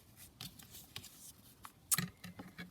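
Scissors snip through plain blue upholstery fabric in a quiet room, a handful of short, soft crisp cuts spread unevenly, with one sharper, louder snip near the middle.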